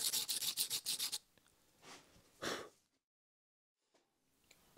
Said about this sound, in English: 240 grit paper and then 320, and then just smooth it all over